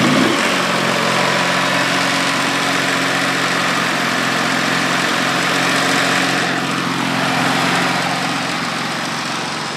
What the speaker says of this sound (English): Here's the generator. Generac generator.